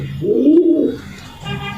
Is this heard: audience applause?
no